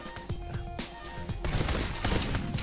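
Shotgun fire in a Vertigo mission of a shooting game cracks out in a quick string of close shots, then gives way to a denser, noisier stretch of continued firing.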